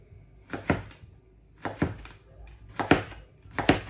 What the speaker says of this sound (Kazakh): осындай жаңа турайтын нарезка, осымен тураймыз